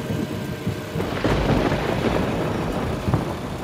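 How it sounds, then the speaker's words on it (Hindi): Steady rain pours down with a rumble of thunder, a dense broadband wash that stays loud throughout with no voices. "इसी का डर था, हो गई ना बारिश शुरू।"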